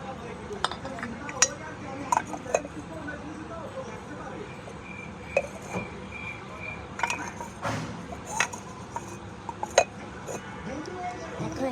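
A lid set onto a cooking pot amid kitchen clatter, sharp metallic clinks and taps of utensils and pans scattered throughout, with a person talking at times.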